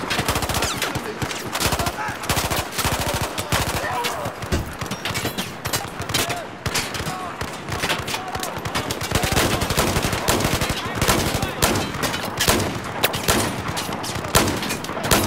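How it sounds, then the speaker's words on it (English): Sustained suppressing fire in Battlefield 4, loud rapid bursts of automatic gunfire with crackling shots packed tightly across the whole stretch, forming a near-continuous barrage. "I'm at least putting suppressing fire on them, which I think makes them shoot, not shoot as much"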